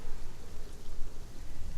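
Steady rain falls in a continuous, even hiss with a low rumbling wash underneath, close and unbroken, with no voices.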